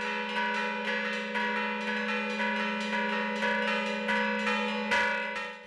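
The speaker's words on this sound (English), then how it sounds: "The historic bells of the mission chime only for special occasions" Historic church bells at Mission San Juan Capistrano chime in a steady repeating peal during a festive celebration, each ringing strike leaving a long, resonant hum.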